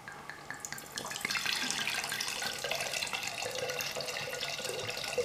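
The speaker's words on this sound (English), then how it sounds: "What a privilege to watch this master pouring wine." Erbaluce white wine pours steadily into a decanter at a Canavese vineyard in Piemonte, a continuous close liquid splash that swells after the first second and keeps running.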